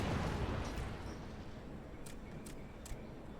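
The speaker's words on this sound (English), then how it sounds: "right into the explosions" Explosions from the game Final Fantasy XIV, a loud, dense rumbling blast that fades slowly, with a few sharp crackling pops near the end.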